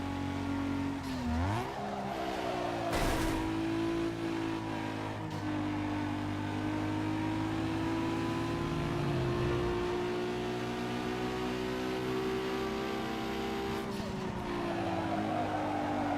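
Race cars in Need for Speed Underground 2, including an RX-7, drone continuously with a steady engine note that climbs and dips through gear changes, plus occasional brief tire squeals, held at moderate level throughout.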